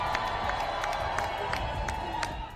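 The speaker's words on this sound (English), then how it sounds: "Hugh and Olivia kissed in front of the crowd to rapturous applause" A crowd outside a royal wedding cheers and applauds as the newlyweds kiss. The cheering is dense and continuous, with scattered claps and shouts, and holds steadily for a few seconds.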